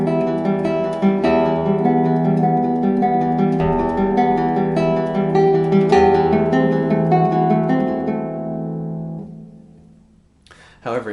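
A 19th-century guitar etude played in 12/8 with all four main beats accented equally, plucked notes ringing in an even rolling pattern before fading to near silence at the end.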